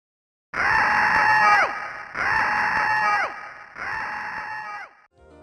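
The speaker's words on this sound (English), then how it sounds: "a jump scare of a bloody skull with a low-bit scream sound effect accompanying it will appear every 5 minutes" Three repeated low-bit, harsh digitized screams from the Nightmare scareware on the Amiga, each about a second long with a falling pitch at the end, loud and alone, separated by short gaps.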